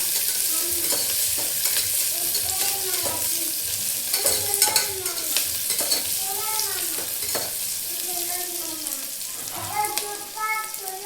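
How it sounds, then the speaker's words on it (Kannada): Masoor dal ingredients frying in hot oil in a pan, a loud continuous sizzle with stirring, while a voice talks over it in the background. "1-2 ನಿಮಿಷ ಎಣ್ಣೆ ಒಳಗೆ ಚೆಂದಾಗಿ ಫ್ರೈ ಆಗಲಿ."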